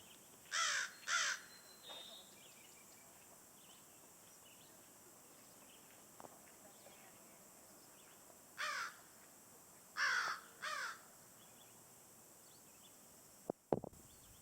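Crows caw in a few separate bouts of two or three harsh calls each, spaced apart over a quiet outdoor background, moderately distant.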